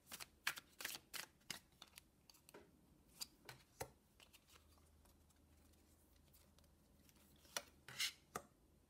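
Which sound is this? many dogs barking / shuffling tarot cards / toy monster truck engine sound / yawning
shuffling tarot cards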